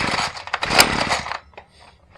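A small engine, primed and on full choke, sputters and catches briefly in a loud ragged burst, then dies away to near silence with a faint tail at the end.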